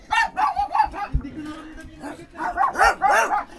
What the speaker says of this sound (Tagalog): Ayan, Kubunoto, mga aso natin.